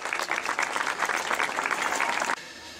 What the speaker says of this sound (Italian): quindi vi chiedo un bel applauso per Pierantonio.